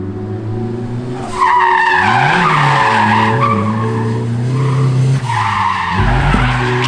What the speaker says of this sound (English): gonna do a little bit of drifting with this thing